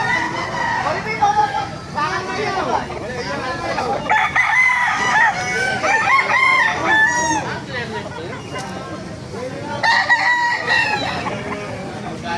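Roosters crow repeatedly at a busy Baliuag chicken market, with clucking fowl and crowd chatter filling the background throughout.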